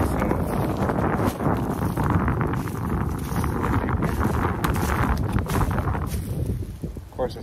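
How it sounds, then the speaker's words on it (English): Strong wind across an open farm field, a continuous loud rumbling roar buffeting the microphone and easing slightly at the very end. "of course, it's really windy today"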